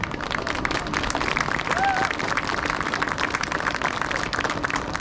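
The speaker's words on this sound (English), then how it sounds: "So I want to give you guys a round of applause and say thank you for all of your help this year." An audience at a school band event applauds the band parents, producing a short burst of scattered clapping and crowd noise mixed with a voice, filling the whole moment.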